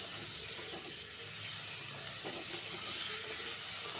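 Pumpkin greens, potato and poppy seed sauté in a pan, a soft, steady, faint sizzling hiss with light stirring and no speech.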